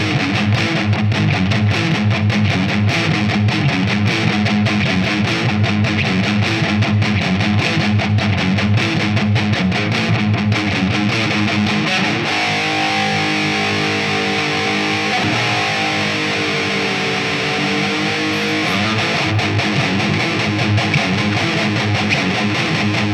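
An electric guitar riff, loud and distorted, with dense driving chords that give way to a more sustained, ringing passage partway through. No voices are heard.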